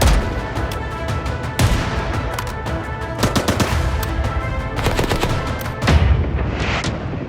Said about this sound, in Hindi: इस सन्नाटे को चीर रही है गोलियों की आवाज